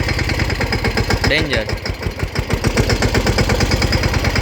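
A Sonalika mini tractor engine chugs in a steady, throbbing rhythm on a muddy farm track, loud and close, with a brief spoken word over it.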